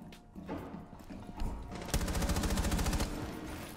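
Rapid automatic gunfire in a video game, a burst of fast, evenly spaced shots in the second half after scattered mechanical clicks and rattles, loud and close with no talking.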